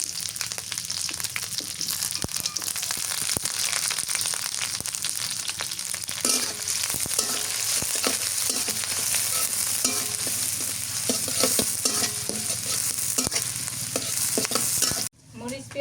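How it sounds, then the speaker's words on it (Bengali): Chopped onions with green chilies frying in oil in a home kitchen, a steady close sizzle with repeated scraping and stirring of a spatula in the pan, continuous until it cuts off at the end. "পেঁয়াজ ভাজা হয়ে গেছে"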